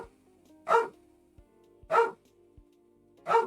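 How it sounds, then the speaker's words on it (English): A female dog barks three separate times at roughly even intervals, each bark loud and close against a quiet indoor background with soft low thumps between them. "I apologize for her constant fucking barking."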